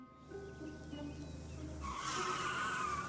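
A car's tires skid and squeal loudly as it brakes, with engine rumble underneath and a harsh screech rising in the second half.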